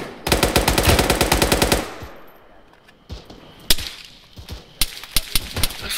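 Rapid automatic gunfire bursts loudly at close range during a military field training exercise, a sustained rattling string followed by scattered single shots and short bursts, some nearer and some farther off.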